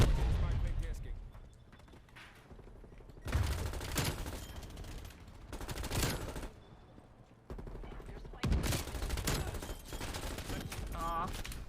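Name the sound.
gunfire in Call of Duty video game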